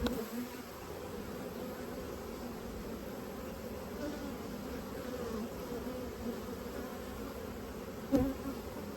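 A steady, dense buzzing of many honeybees around an open hive fills the whole stretch, close and continuous, with a brief louder bump near the end.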